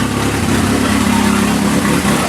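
A 1981 Alfa Romeo Spider Veloce engine idles while warming up in a garage, a steady, close, low drone that holds even throughout the short stretch.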